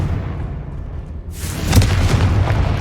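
Confringo blasting spell going off in Hogwarts Legacy, a sudden deep boom that swells partway through and rolls on with a low rumble, loud and close.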